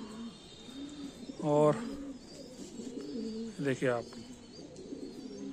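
Two soft, throaty coos from a domestic pigeon sound close by, a couple of seconds apart, with quiet talking in between.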